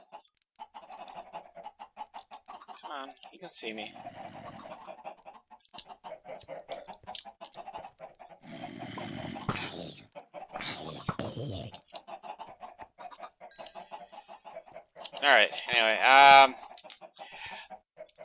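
A flock of chickens on a video game chicken farm cluck steadily throughout, with a few louder squawks near the end, while someone talks over them.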